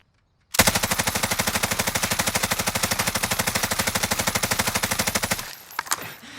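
Bruen Mk9 automatic fire in a video game, a rapid, evenly spaced stream of loud shots lasting about five seconds after a silent start, then a brief quieter tail with mechanical clatter.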